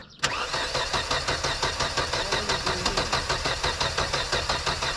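An Alfa Romeo car engine, unused for two months and with its turbo removed, cranking over in a fast, even rhythm of loud, close pulses that continue steadily without settling into an idle.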